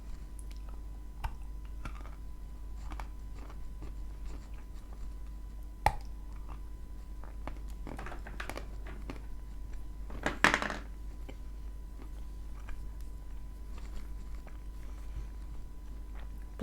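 A large assorted cookie made from pasta assorti and chalk is bitten and chewed, with scattered soft crunching clicks and a louder burst of biting around the middle, close and otherwise quiet.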